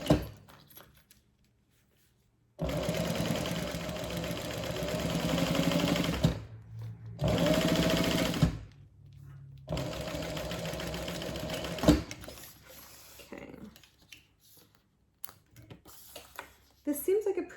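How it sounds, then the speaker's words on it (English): A sewing machine top stitches a double zip bag in three long, steady runs of rapid mechanical whirring, separated by brief pauses, followed by quieter handling clicks. "So now we are going to go ahead and top stitch."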